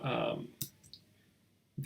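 Sharp clicks of keyboard keys pressed during Photoshop work, a distinct click near the middle and another at the end, following a stretch of speech at the start.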